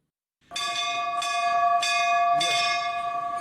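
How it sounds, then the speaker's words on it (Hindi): Metallic temple bells ring out in four distinct strikes, each with a long shimmering sustain that overlaps the next, fairly loud and close. "घंटियों की ये आवाज ही हमें आसपास मंदिर होने का एहसास कराती है"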